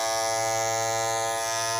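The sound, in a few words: loud vibrating Andis Masters cordless hair clipper with loose part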